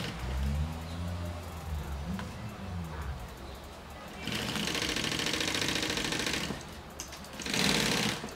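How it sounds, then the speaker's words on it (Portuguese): A sewing machine stitches a seam on a bag, running in steady bursts with pauses between them, near and clear. Low, faint speech is heard in between. "Vou começar uma costura assim, ó, meio inclinada."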